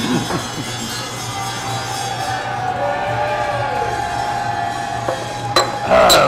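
Loud crowd chatter and clinking from diners on a busy restaurant patio, a steady dense wash of overlapping voices throughout with occasional dish and cutlery clinks and a louder burst near the end.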